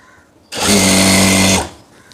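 A sewing machine stitching a churidar bottom runs in one loud, close burst of about a second, whirring steadily before stopping abruptly.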